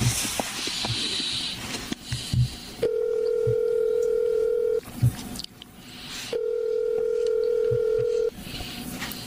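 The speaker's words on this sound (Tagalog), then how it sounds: "Tatawagan kong number na nag-text sa kanya." Telephone ringback tone from a call being placed, two long steady buzzing rings separated by a pause, clear and close over faint room noise, no talking.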